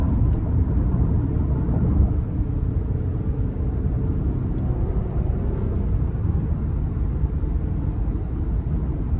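A 2019 Infiniti QX60 naturally aspirated V6 pulls under throttle in manual mode, heard from inside the cabin as a steady, loud low engine drone and road rumble with no talking.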